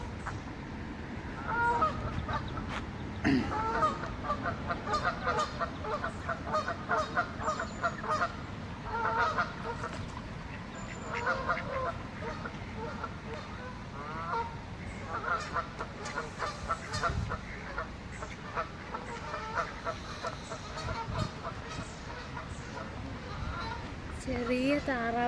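Geese and ducks, including small ducklings, honk and call continuously at Elmore Park in Rugeley, UK, a busy, overlapping chorus of nearby honks with some talk mixed in.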